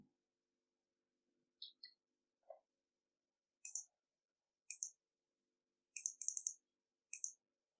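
A computer mouse clicks sharply on an on-screen increment button several times in a quiet room, first as single clicks and then in a quick cluster, each one crisp and close.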